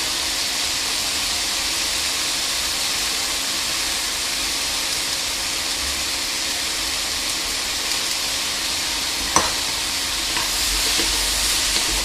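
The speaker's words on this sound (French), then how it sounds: "Ça fait environ 3 minutes que les légumes cuisent tous ensemble." Mixed vegetables sizzle steadily together in a pan, a loud, even hiss of frying that runs unbroken throughout, with one brief clink near the end.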